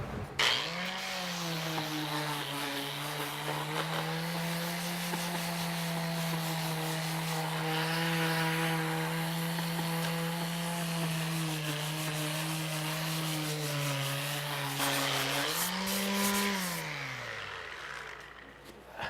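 A power sander on a wooden surface runs as a steady whining motor hum for about fifteen seconds, briefly rises in pitch, then winds down, loud and close with no speech.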